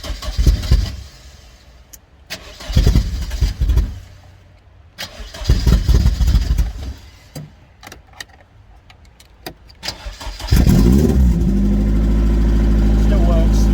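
A Rover 25 with a stuck handbrake cranks several times in bursts, then catches and settles into a loud, steady, rough-sounding run.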